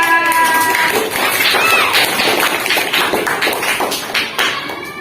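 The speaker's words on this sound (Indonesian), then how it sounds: "Ya, beri tepuk tangan." A group of participants claps together in a loud, dense burst of rapid hand claps that carries on steadily, with a few voices faintly mixed in.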